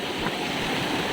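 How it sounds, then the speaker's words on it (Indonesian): Waves rolling onto the shore at Tanjung Binerean in heavy rain, a steady, full wash of surf and water noise filling the short stretch with no break and no voices. "Ombak terus datang,"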